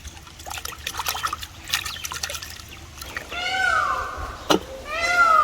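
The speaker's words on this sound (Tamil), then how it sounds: "சிக்கனை நல்லா 2-3 தண்ணியில் நல்லா கழுவி எடுத்துக்கலாம்." Raw chicken being washed in a couple of changes of water, with splashing, trickling and sloshing up close, plus a few sharp clatters between the water sounds.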